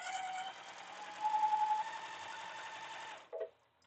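A sewing machine hums steadily for about three seconds, close and moderately loud, then stops with a brief clunk and falls quiet.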